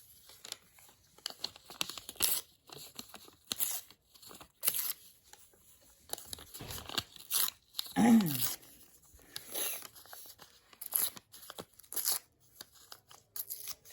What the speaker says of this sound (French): Et on va découper les bords.